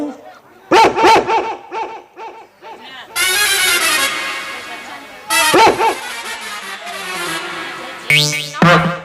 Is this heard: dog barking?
yes